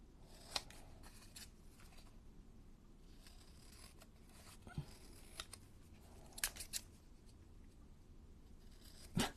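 Scissors used while making a handmade Alice in Wonderland junk journal give a few faint, quick snips and crisp clicks against quiet room tone, with light paper rustling between cuts.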